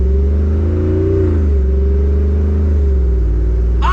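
The V8 of a 2021 Jeep Wrangler Rubicon 392 rumbles loudly and steadily from inside the cabin, its deep tone rising and falling slightly, then a brief sharp noise at the very end.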